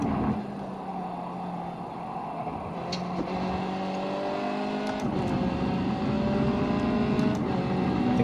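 A race car engine in the iRacing sim at Twin Ring Motegi drones loudly and steadily, its pitch climbing and then dropping at gear shifts, with brief sharp clicks partway through and no talking.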